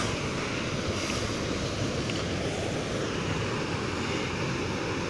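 Rushing river water at the Strid, a steady broad roar of churning current with no breaks, moderately distant and constant throughout, with no voices over it.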